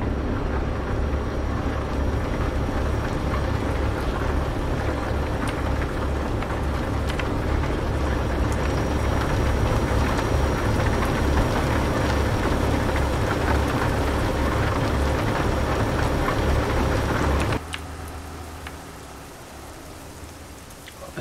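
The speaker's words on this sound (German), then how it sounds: "Ein Regen ist das." Rain in the truck-driving game Euro Truck Simulator 2 pours as a dense, steady hiss over a low engine rumble, then drops abruptly quieter near the end; no talking.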